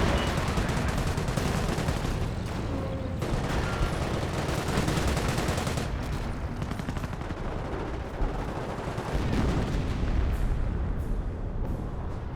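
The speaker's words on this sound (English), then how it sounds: "Artillery running in over there." Artillery and gunfire in a Company of Heroes battle: dense, continuous barrage of booming shells, machine-gun bursts and explosions throughout, loud and layered with no pauses.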